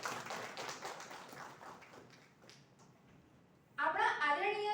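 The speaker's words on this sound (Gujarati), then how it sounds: "એમને તાળીઓના ગડગડાટથી વધાવી લઈએ" Applause welcoming a guest at an AICTE VAANI workshop on artificial intelligence and data science: a crowd claps in a dense patter that gradually thins out, then a voice begins speaking.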